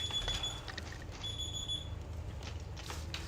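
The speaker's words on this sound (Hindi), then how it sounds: "अभी देखो मेरा फजर का अलार्म बोल रहा है तो मैं वो बंद करता हूँ" A phone alarm for Fajr prayer sounds over a dull background rumble, thin high electronic beeping tones repeating in short bursts before cutting off partway through, faint and steady with no talk.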